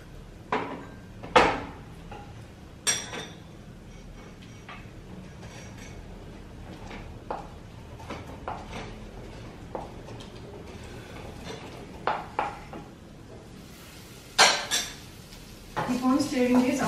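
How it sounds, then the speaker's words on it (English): Ginger and garlic being stirred in an iron wok, a string of sharp metallic clanks and scrapes of the utensil against the pan at irregular intervals over a quiet background, with a louder sizzle rising at the end. "Keep on stirring this after adding the ginger and garlic."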